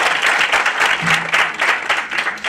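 An audience claps steadily in a dense burst of applause, filling the space without a break.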